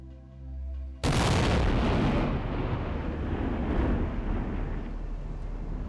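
An explosive blast, set off with a single blasting cap on dead cord running down a hill, erupts in one sudden loud boom, then a long rumbling roar of debris and echo fades slowly.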